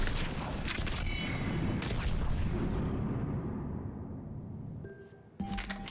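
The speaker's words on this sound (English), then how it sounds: "a disc. That explodes after a short amount of time." A Chakram launcher disc blows up in Mass Effect 3, giving loud booming blasts that roll off into a long fading rumble, followed by another sharp burst near the end.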